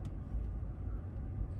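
A car idles with a low, steady engine rumble while being parked, close and continuous with no talk over it.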